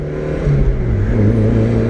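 A stripped-out, turbocharged 2017 Fiat 124 Spider on its second engine with 213,000 miles, running about 12 psi of boost, accelerates with a loud, close, rough engine drone that surges briefly, no voices.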